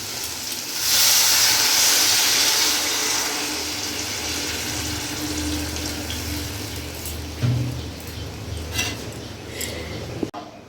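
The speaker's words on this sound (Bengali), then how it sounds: "এবার এখানে আমি জল দিয়ে দেবো।" Water pours into a pan of frying catla fish curry with potatoes on a gas flame, a loud hissing rush in the first seconds that settles into a steady simmering sizzle, with a few clinks near the end.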